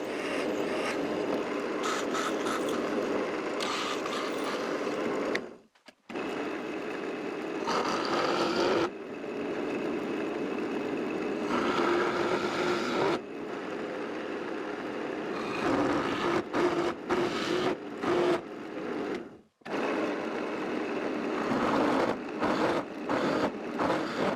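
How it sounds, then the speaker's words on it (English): A drill boring holes for anchor screws in a DIY router table: long, loud, steady whining runs broken by two short pauses, with no voices. "First, I make a few new holes for the anchor screws."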